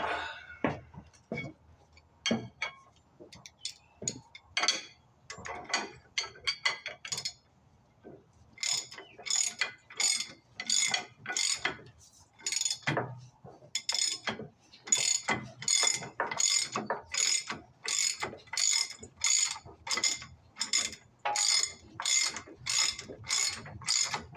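A hand ratchet clicks in sharp bursts while a bolt on a backhoe hydraulic cylinder is run down and snugged, first sparse uneven strokes, then a steady run of rapid close ratcheting.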